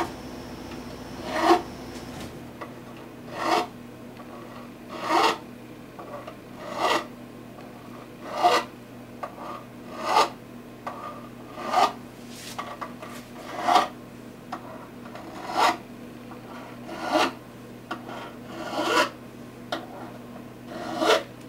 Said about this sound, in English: we just bring the file up to the fret and just kind of roll it all over a little bit.